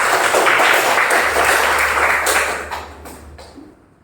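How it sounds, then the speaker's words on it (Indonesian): Classroom of students clapping together for a few seconds, a loud dense burst of hand claps that tapers off into a few scattered final claps. "Tepuk tangan untuk kita hari ini."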